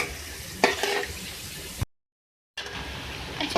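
Three medium onions frying in oil in a karahi, giving a steady hiss and sizzle with a sharp stirring scrape near the start, then a brief cut to silence before the frying resumes.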